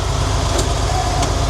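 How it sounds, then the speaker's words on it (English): A farm tractor engine runs steadily close by during hay baling, a constant low rumble with no pauses. "Put the tractor in gear."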